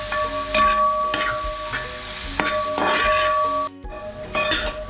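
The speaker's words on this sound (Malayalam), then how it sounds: "നന്നായിട്ട് ഇളക്കി കൊടുക്കാം." Kappa biryani ingredients, including onion, ginger, garlic and salt, are stirred in a pan with steady scraping and clinking of a utensil over a soft sizzle, in repeated strokes with a short pause near the end.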